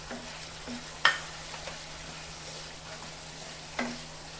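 Chicken korma masala with Kashmiri chilli powder frying in a pan, a soft steady sizzle with a low hum underneath and two sharp clacks of a utensil against the pan.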